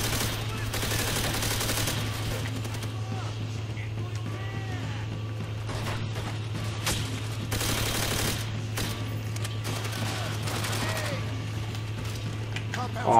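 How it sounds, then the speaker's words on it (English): Machine gun fire from the video game World at War, a steady stream of overlapping shots layered over a constant low hum of game sound, with bursts continuing throughout and voices talking over it. "Watch out, we got those machine guns."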